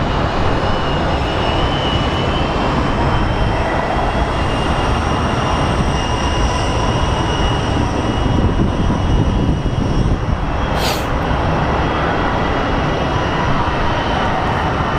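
Jet airliner landing on the runway at Phoenix Sky Harbor International Airport, a loud, steady engine roar filling the whole span with no talk over it, and a brief sharper burst near the end.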